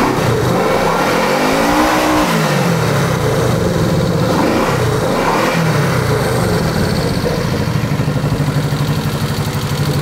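A neglected classic motorcycle's engine idling close by, a steady loud throbbing rumble with a couple of brief swells in pitch.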